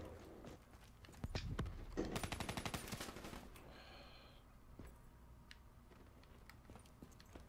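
Rapid automatic gunfire in Black Ops 3 multiplayer, a dense burst of shots lasting about a second and a half in the middle, with scattered quieter shots and game noise around it.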